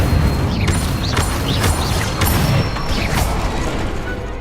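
An Incendio fire spell from Hogwarts Legacy bursts out in a dense, roaring whoosh with several sharp whooshing flares and crackling impacts, loud and continuous throughout.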